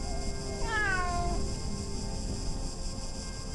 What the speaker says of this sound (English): Wait. That was a cat.